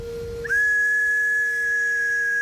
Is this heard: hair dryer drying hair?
no